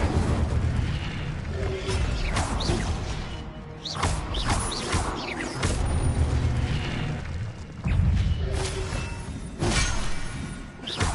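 Fire spells go off repeatedly in Hogwarts Legacy video game combat, a string of loud booming bursts and crashes with sharp whooshing flares every second or two over a continuous rumbling battle bed.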